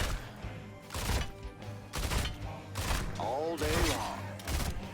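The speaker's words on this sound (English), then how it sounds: "So say I wanted to shoot this guy" Gunfire from shooting at a target in the video game Lambro's Heroes: several sharp, loud bursts at irregular intervals over steady game background sound, with a faint voice-like sweep partway through.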